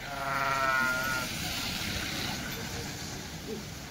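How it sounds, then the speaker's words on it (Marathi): Kathiawadi sheep bleat in a flock during a spell of steady rain, with one strong, wavering bleat at the start over constant background noise, followed by a muffled, noisy stretch with fainter animal sounds. "बघा मेंढ्या"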